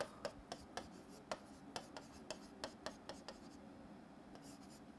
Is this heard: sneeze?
no